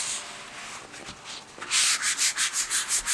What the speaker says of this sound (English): I believe these will actually just rub off almost instantaneously.